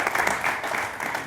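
A studio audience at a New Year comedy show applauds for Nuki with a short burst of fairly close, even clapping. The clapping stays steady throughout its brief run.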